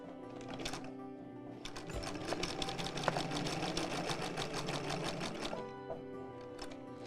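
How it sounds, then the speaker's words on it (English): An old home sewing machine stitches in a steady, rapid mechanical patter at close range, running continuously for several seconds before slowing and stopping. "This is the sewing machine that I learned to sew on when I was 13."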